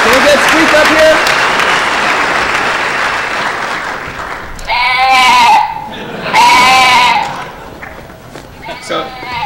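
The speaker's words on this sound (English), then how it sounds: "Everyone, give Squeak a round of applause" A Defcon award ceremony crowd applauds a Sheep of the Year winner with loud, sustained clapping. Several voices mockingly bleat like sheep in bursts partway through.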